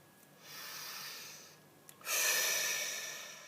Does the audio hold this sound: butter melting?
no